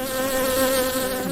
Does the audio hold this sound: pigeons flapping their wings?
no